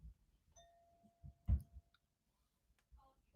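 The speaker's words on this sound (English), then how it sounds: "Somebody's ringing our doorbell." A single electronic doorbell chime sounds once in a quiet room, with a few soft clicks and thumps around it.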